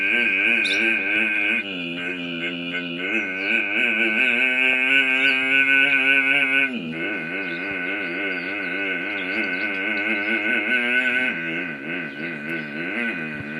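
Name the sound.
voice imitating a loaded truck climbing a slope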